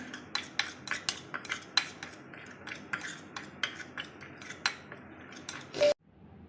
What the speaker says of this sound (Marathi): थोडासा मॅगी मसाला याच्यामध्ये टाकून घेऊया हे मसाले मिक्स करून घेऊया